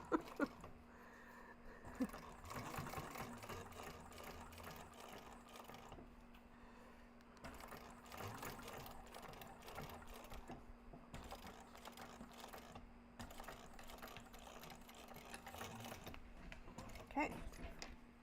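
A home sewing machine stitching a Taymor crossbody bag with a zipper foot, running in short mechanical bursts with clicks and pauses, moderately close but fairly quiet, with a person talking over it at times.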